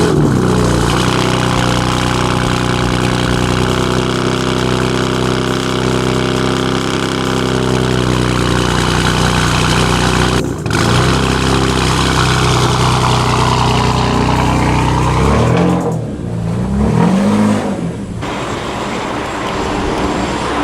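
BMW F80 M3 engine cold-starting and settling into a steady, loud idle, with a deep sustained drone up close, a brief dropout midway and a few blips near the end.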